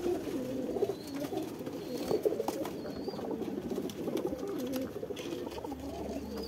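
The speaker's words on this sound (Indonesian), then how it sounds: "Seperti ini merpati keter teman-teman" Red keter pigeons in a collector's loft coo in low, rolling, repeated calls that run continuously at close range, with faint rustling and no talk.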